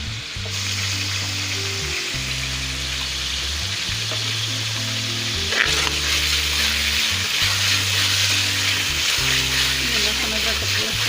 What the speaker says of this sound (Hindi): सबसे पहले मैं ये लहसुन अदरक पेस्ट ये फ्राई कर रही हूँ।